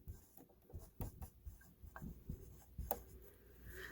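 A pen scratches across the pages of a homeschool record book in short, close, quiet strokes with small pauses between words, heard alone.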